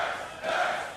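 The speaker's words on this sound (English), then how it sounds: "Sounds like Curse do have the local crowd supporting them" Local arena crowd at a 2014 NA LCS summer playoff League of Legends match, a steady, dense roar of cheering that swells louder halfway through, with no talk over it.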